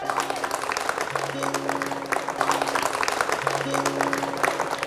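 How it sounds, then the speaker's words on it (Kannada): An audience claps in a dense, continuous stretch at a village deity festival orchestra show, mixed with sustained musical tones. "ಜೋರಾದ ಚಪ್ಪಾಳೆ ಬರಲಿ."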